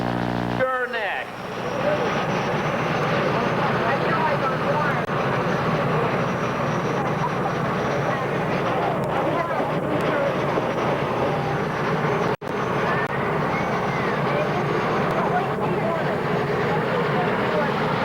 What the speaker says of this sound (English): hand for Jennifer Soyson, Akron, Ohio, with her twin turbines called Leathers and Lace